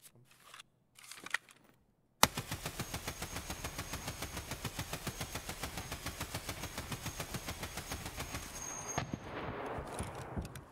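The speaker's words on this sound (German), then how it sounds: "Wir haben noch ein bisschen Munition im Granatwerfer. Das heißt, ich muss noch ganz kurz auf die Dorms schießen." Rapid automatic gunfire in Escape from Tarkov, aimed at the dorms on the Customs map with a grenade launcher, a long steady burst of evenly spaced loud shots after a few brief clicks.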